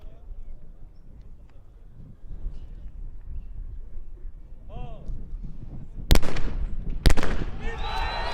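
Two sharp, loud shotgun blasts crack in close succession at a men's skeet shooting final of the 2024 shooting World Cup, each ringing out after a quiet stretch with a commentator talking.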